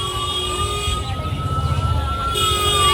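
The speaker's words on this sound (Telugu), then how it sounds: "ఎనీ టైం హాఫ్అన్అవర్కి ఒక అంబులెన్స్ అయితే వెళ్తానే ఉంది." An ambulance siren wailing on a crowded road in Tiruvannamalai during the full-moon hill circuit, loud and close with a steady rising tone over engine rumble and traffic noise.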